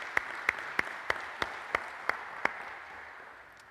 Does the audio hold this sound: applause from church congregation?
yes